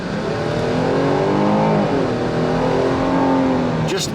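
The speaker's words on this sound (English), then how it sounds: "Now we're going to get on the throttle a little bit and see how it handles." A 3.6-liter V6 in a 2025 Jeep Grand Cherokee L pulls hard under throttle, a steady loud engine drone with rising harmonics as the SUV accelerates, heard close from the cabin with no talk.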